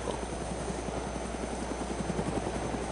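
Helicopter in the TigerHeli game drones steadily with a low, rapid rotor chop, even and continuous at moderate level, with no voices.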